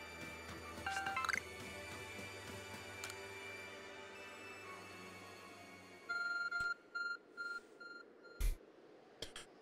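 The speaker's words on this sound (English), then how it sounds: "Your arc phone is beeping." Arc Phone in Pokémon Legends: Arceus beeps in a short run of repeated electronic tones amid soft dripping and chiming game sounds, moderately quiet and without talk.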